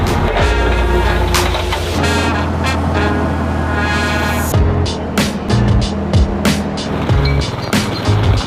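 A forklift with no brakes driving while cars are loaded, its engine a loud continuous drone with rattling and shifting pitch, close by and without talk.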